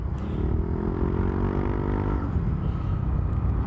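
A New Aerox motorcycle with an ROB1 aftermarket exhaust revs steadily up and down, loud and close by, with a rough rumbling tone and no voices.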